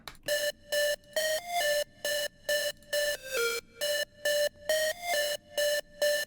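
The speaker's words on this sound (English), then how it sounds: "next up, I have this square wave Wavetable lead." A bright, buzzy square-wave synth lead from Ableton's Wavetable plays short, evenly spaced staccato notes in a bouncy melodic pattern, heard alone and up close.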